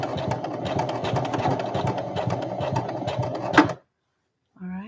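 A sewing machine runs steadily, stitching a zippered bag with a fast, even mechanical rattle, close and loud for nearly four seconds before stopping abruptly. A brief voice follows after a short silence.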